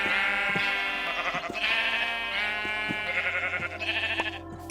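Sheep in classic Minecraft bleat repeatedly, several overlapping nasal calls close by with a few soft thuds between them.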